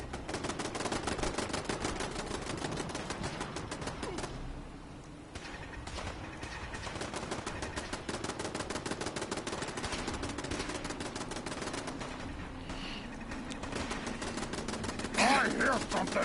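Turret gunfire in the Fallout 4 video game: rapid, sustained automatic bursts rattle almost continuously at fairly close range, with a brief lull partway through before the firing resumes.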